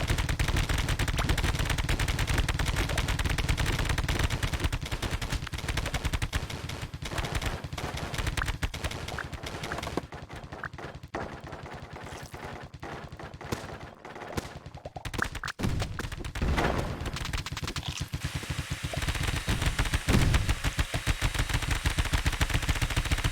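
Rapid, continuous gunfire in the survival game Keplerth, dense bursts of shots with explosions mixed in, loud and sustained throughout with no talk.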